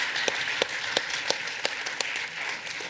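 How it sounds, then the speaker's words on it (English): A small gathered group applauds itself, a soft wash of clapping with a few sharper individual claps popping out at a steady pace, fairly distant and unaccompanied by talk. "you can give yourselves a big warm round of applause, will you?"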